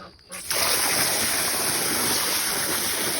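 Ducks thrash and splash in their small backyard pool, sending water flying everywhere; a steady, close, loud wash of splashing fills the scene after a brief quieter start.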